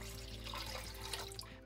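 Water is poured into a pot in a kitchen, a faint, brief continuous splashing trickle lasting under two seconds.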